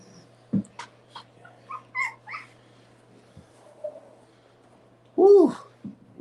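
A newborn Boerboel puppy whimpers in short, faint high cries, ending in a louder whine, while a person speaks softly nearby.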